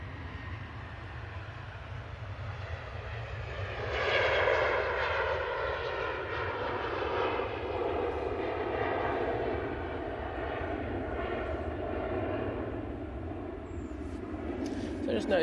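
A Cathay Pacific airliner taking off at an airport, its engine roar swelling after a few seconds into a sustained, rumbling thrust that stays strong and steady throughout.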